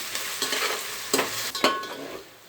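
Ginger garlic paste fries in a pan for coconut milk pulao, with browned onions already in it. The sizzle stays low and steady while a spoon scrapes and stirs in a few sharp bursts, and no one speaks.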